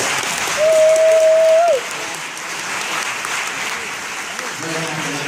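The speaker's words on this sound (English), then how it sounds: "Please give all of our judges a wonderful round of applause." An evening film festival audience applauds its judges with sustained, fairly loud clapping, while a sustained tone sounds briefly near the start and the clapping thins toward the end.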